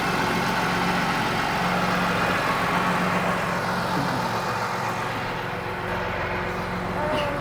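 Farm tractor engine idling during grain cart work, a steady low mechanical rumble, moderately close and even, with no talk over it.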